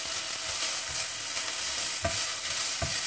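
Leftover fried rice is stir-fried over high flame, a loud steady sizzle with a spatula scraping and knocking against the pan every so often.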